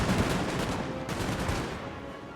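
Musket volley fire rattles through a Napoleonic battle in Napoleon Total War, a dense, continuous crackle of overlapping shots with heavy low rumble, steady and loud throughout.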